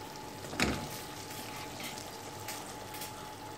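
Water poured into a hot pan of cooking chicken for chicken Maggi noodles, with a sharp burst of sizzling and hissing near the start that settles into a steady bubbling fry.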